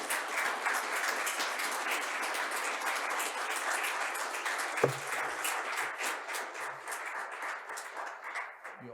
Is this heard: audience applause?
yes